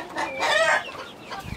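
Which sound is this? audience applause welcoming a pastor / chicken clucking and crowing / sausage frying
chicken clucking and crowing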